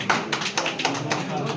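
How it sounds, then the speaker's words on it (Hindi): A few scattered, soft claps ring out in a quiet room at a teachers' cluster meeting, uneven and brief rather than a full ovation. "इनके लिए एक जोरदार तालियां।"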